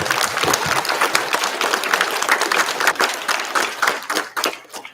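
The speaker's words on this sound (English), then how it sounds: "Let's give her a round of applause." A school audience claps for Vice Principal Johnson at a fourth-grade museum opening ceremony, a brisk burst of many hands that stays strong and then thins out toward the end.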